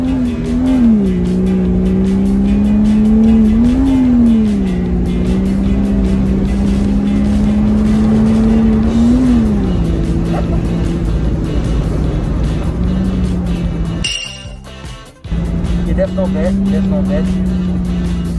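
Porsche 986 Boxster six-cylinder engine revving through its exhaust, a loud, close drone rising and falling in several swells, with a brief cut and sharp noise partway through.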